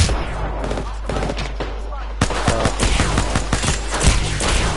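Rapid gunfire from the video game Apex Legends crackles in dense, repeated bursts, loud and steady through the clip with some shouting players over it.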